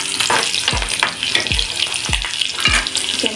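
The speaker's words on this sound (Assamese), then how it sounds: "ইয়াতে আমি এনেকৈ জলকীয়া দুফাল কৰি আমি ইয়াত দি দিলোঁ তেলত।" Halved chillies hit hot oil in a pan, making a loud, close sizzle with a few sharp stirring knocks at regular intervals and no voices.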